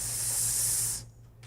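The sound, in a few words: voice imitating buzzing zzz sound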